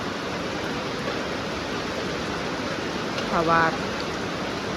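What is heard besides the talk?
rain falling on the way to market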